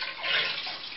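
Homemade light wine must trickles as it is poured between containers, a steady thin liquid splash and dribble of the last drops, close and fairly quiet with no talking.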